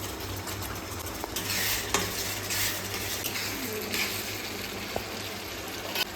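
Spices and turmeric being stir-fried in a pan after lightly fried onion, for a Bengali mutton and chicken curry, with a steady low sizzle, soft scraping strokes and occasional metal clinks of a spoon against the pan, no voices.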